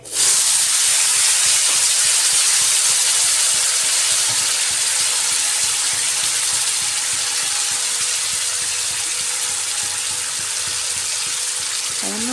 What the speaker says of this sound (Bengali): এবার মাছ ভাজার তেলের মধ্যে আলুগুলো ভেজে নিচ্ছি।